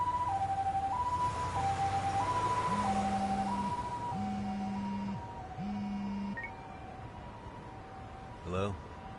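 A wailing two-tone ambulance siren in the video game Lost Judgment, clear and prominent at first, then fading toward the end, with a low mechanical whine joining partway through and a brief bump near the close.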